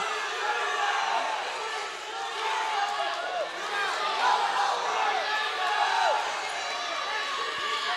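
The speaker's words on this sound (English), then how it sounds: "A lot of reaction from the crowd right now." Crowd noise rising and falling in a gym during a men's college wrestling dual against Clackamas, a steady murmur of cheers and shouts held fairly loud across the whole stretch, with no single clear peak.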